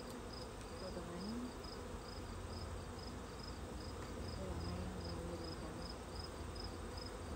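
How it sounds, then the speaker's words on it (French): A dense, steady drone of many honey bees buzzing around an open hive, constant and fairly close, with a faint voice now and then under the hum. "Il y a beaucoup d'abeilles"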